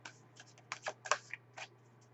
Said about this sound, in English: We might as well shuffle and see what the cards have to say for us one more time.